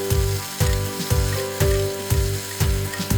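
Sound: cabbage stir-frying with oyster sauce and soy sauce

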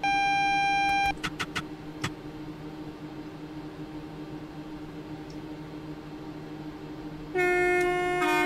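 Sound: train horn sounding at a level crossing

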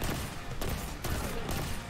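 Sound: hand cannon gunfire in Destiny 2, video game

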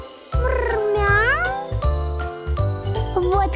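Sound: cartoon cat meowing

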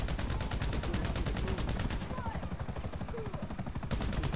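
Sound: helicopter in video game GTA

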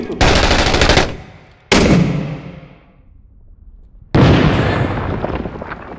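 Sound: grenade explosion and gunfire in a video game

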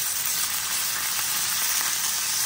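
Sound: roast beef searing in smoking hot oil

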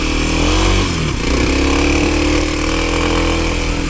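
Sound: Kawasaki KLX 300 motorcycle engine climbing sandy hill

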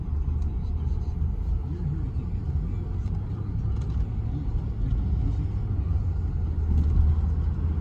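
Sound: 1992 Lincoln Town Car driving down the road

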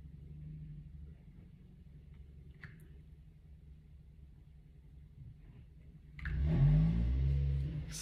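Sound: car arriving in the background

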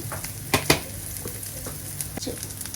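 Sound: roasting turmeric, chili and coriander powder in the pan

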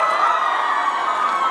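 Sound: audience applause and cheering for volunteers at a school event

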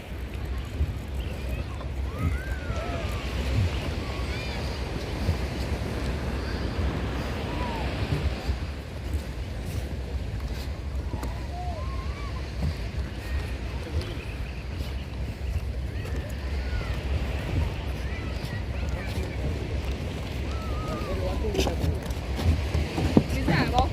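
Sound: sea waves at Panambur beach

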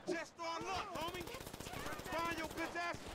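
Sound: gunfire in the video game GTA 5

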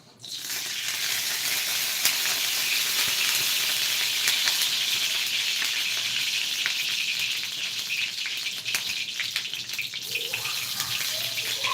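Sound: onions frying in a pan

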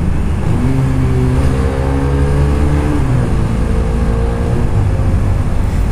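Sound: Honda Rebel 250 motorcycle engine accelerating

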